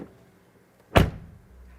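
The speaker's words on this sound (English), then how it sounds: "Well, then the door closing sound" A Mercedes EQE SUV door swings shut with one solid thud at close range, a short low-heavy impact fading into a brief muffled rumble, with no voices over it.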